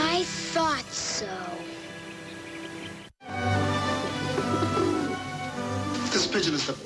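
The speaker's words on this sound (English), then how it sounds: "This pigeon is the best part of my act" A magician's trained pigeon coos softly in low, throaty bursts, heard beneath people talking nearby.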